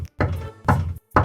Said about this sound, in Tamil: கதவை தட்டியதும்